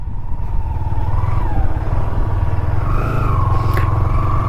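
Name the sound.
motorcycles on group ride descending slope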